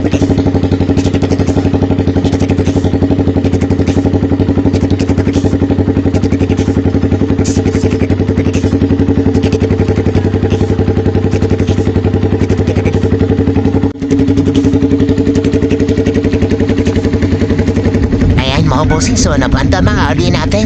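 Suzuki Thunder motorcycle running with an open pipe: a loud, close, steady engine drone with a throbbing exhaust that holds for the whole stretch, dipping briefly once and ending with some clattering.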